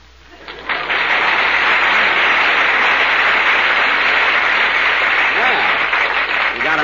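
Studio audience applause on a 1938 radio comedy broadcast, bursting in abruptly after a moment of quiet and continuing as a full, even roar of clapping on an old, band-limited recording.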